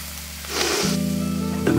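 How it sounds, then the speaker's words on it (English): Meat sizzling as it roasts in an oven after being coated in oil, a steady close hiss that swells louder partway through, accompanied by a low mechanical hum and no talk. "Listen to that meat sizzle."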